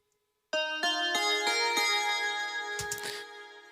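Two layered synth bells, including a Nexus tubular bell, strike about five times in a steady rhythm, their bright metallic tones ringing and sustaining, ending with a short burst of noisy shimmer.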